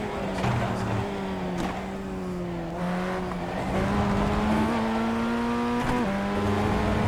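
A Formula 1600 race car engine in the iRacing sim game revs and shifts around VIR, its pitch climbing and dropping through gear changes in a steady, close drone.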